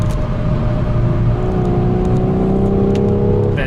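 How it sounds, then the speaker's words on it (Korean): A Hyundai Veloster 1.6T-GDi in extreme drive mode plays an artificial sporty exhaust note through its cabin speakers, a loud, steady droning growl with a faint upward drift, heard close and alone. "요런 배기음이 들립니다"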